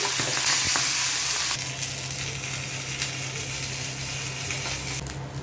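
Tilapia fries in hot oil in a pan, giving a steady, bright sizzle and crackle that carries through the whole stretch, with a few sharper pops and a brief scrape near the end.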